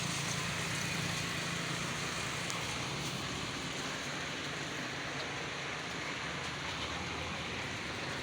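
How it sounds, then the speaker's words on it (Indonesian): Steady rain falling outdoors in Aceh, Indonesia, a continuous even hiss that stays constant throughout, with no other sound standing out above it. "Harusnya kalau panas-panas mendukung, tapi ini hujan, bro. Hujan."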